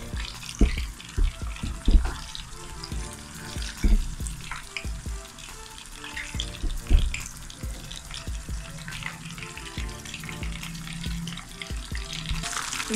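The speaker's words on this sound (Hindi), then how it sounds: "उसके बाद बैटर बनाया मैंने आपके सामने, फ्राई कर लेंगे, तैयार हो जाएगी फ्राई मछली हमारी" Battered fish frying in hot oil for a Lahori-style fried fish, a steady bubbling sizzle with intermittent louder pops and clatters of handling, no talking.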